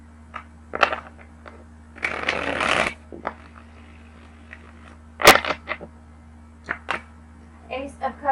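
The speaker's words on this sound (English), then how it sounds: "One more shuffle." A deck of tarot cards riffled in one quick, rustling burst, surrounded by soft taps and handling sounds as the cards are laid out.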